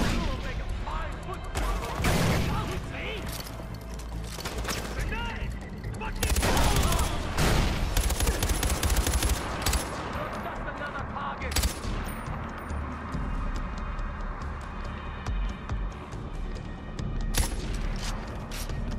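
Gunfire erupts in the Far Cry 4 shooter game: dense, loud bursts of automatic fire and booming shots crack repeatedly across the whole stretch, with a voice speaking intermittently beneath the barrage.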